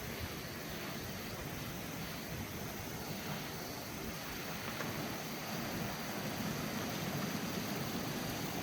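Steady broadband rush of water flowing through the Subway slot canyon in Utah, continuous and fairly even, with no voices.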